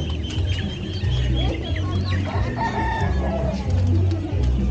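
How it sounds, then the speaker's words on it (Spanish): Rooster crowing at a large small-animal market, several drawn-out crows rising over a dense crowd hubbub with other fowl clucking nearby, loud and continuous throughout. "Mira, gallito."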